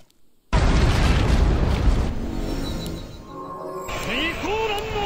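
A grenade explosion in the game Warcraft 3 Naruto Legend, a sudden loud boom after a brief silence that decays into a rumbling tail, with a short voice line and other game sounds following.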